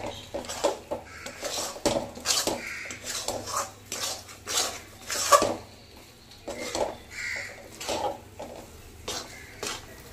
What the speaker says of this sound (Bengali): ঘিটা দিয়ে সুন্দর মতো কিন্তু আবার নাড়তে হবে।